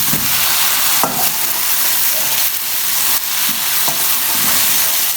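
Onions fry until brown in a pan, giving a loud, dense, hissing sizzle with occasional scrapes of a stirring spoon, close up.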